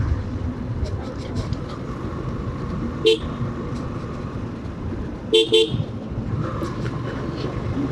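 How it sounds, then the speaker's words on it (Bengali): Vehicle horns on a Bangladeshi rural road during a motorcycle ride: one short toot near three seconds, then a quick double honk around five and a half seconds, over steady engine and road rumble. "বাংলাদেশে আপনি হর্ন না দিয়ে চালাতে পারবেন না"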